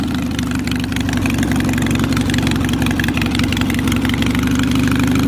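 Off-road hot rod tractor engine running steadily in second gear, a loud, continuous mechanical drone with a dense low rumble throughout, no talk.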